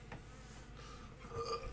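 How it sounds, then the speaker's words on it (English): A bee buzzes faintly in a quiet room close to a computer, its thin hum wavering and rising briefly near the end. "God, this bee is, like, right on it. It's, like, right in front of my computer right now."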